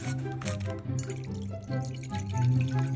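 Capri Sun juice poured out of a pouch, a steady liquid trickle and splash lasting throughout, close and fairly loud with no speech.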